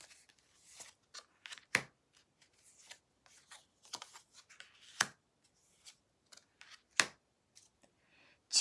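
Tarot cards are drawn and handled one by one on a table, producing soft, close, intermittent slides, flicks and taps with quiet pauses between them.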